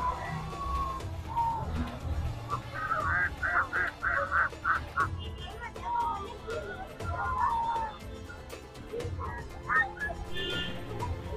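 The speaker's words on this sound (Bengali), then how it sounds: "লেকে দেখুন, লেকে রয়েছে কত হাঁস ঘুরে বেড়াচ্ছে।" Ducks and swans on Nainital Lake in the Kumaon Himalaya give repeated honking calls in short bursts, moderately near, amid outdoor ambience and background voices.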